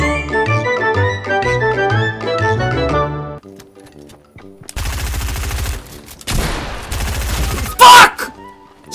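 Gunfire in a shooter video game, heard as dense bursts of shots and a loud blast in the second half, following a stretch of music.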